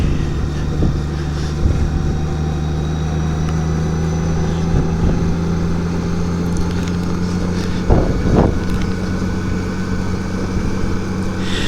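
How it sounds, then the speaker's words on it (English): A Honda Goldwing motorcycle cruising on a warm evening ride, its engine giving a steady, continuous drone with a couple of brief louder bumps of wind or road noise partway through. "On the Goldwing today."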